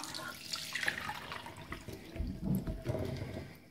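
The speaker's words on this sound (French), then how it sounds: "la première chose que je vais faire va être d'égoutter les cerises" Cherries being drained in a kitchen, with liquid trickling and splashing softly into a sink or bowl for a few seconds, faint and fairly close.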